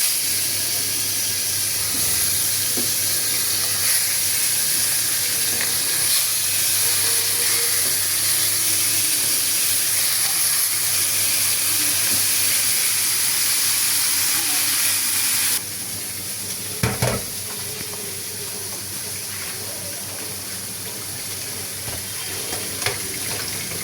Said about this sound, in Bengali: মাছগুলো হলুদ মেখে নিলাম, এখন এগুলো ভাজবো